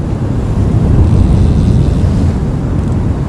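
Heavy wind buffeting the microphone on a rainy, stormy South Wales sea-fishing shore, a loud low rumbling roar that stays constant throughout.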